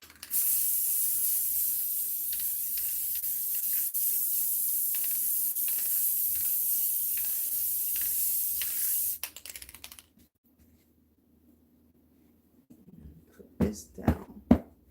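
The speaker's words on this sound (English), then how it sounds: "I'm going to spray." An aerosol spray can fires at foam for an ottoman craft in a steady, close hiss of about nine seconds. It stops abruptly, and a few soft clicks and handling noises follow.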